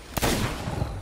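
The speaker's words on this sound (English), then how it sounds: "Oh, the cannon." A ship's cannon firing in Sea of Thieves during a megalodon fight, one sharp loud blast followed by a rumbling wash of sea and battle noise.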